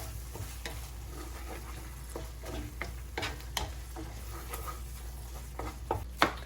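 Onion cooks in a pan with chorizo for stuffed gorditas, a low continuous sizzle broken by scraping stirs and occasional clinks of a utensil against the pan, close by and alone.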